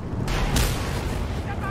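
Mad Max video game explosion, a loud, dense rumbling blast that fills the short moment with deep, sustained roar and crackle.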